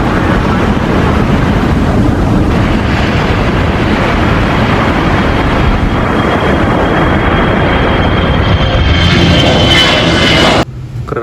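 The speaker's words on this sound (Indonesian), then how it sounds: "Di sini ada pesawat Air Asia." A toy Air Asia airplane comes with a loud, steady jet-engine roar that holds for about ten seconds, then cuts off abruptly.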